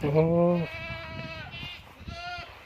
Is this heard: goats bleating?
yes